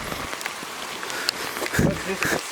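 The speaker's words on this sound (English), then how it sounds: "It's raining heavily." Heavy rain at Malanzai waterfall in Kangpokpi, Manipur: dense, hissing patter with scattered louder drops striking nearby surfaces, steady throughout, while a person talks over it.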